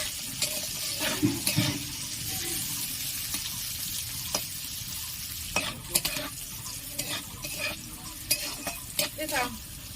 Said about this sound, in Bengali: ফার্স্ট আমি উচ্ছেগুলো বেশ লাল লাল করে ভেজে নেব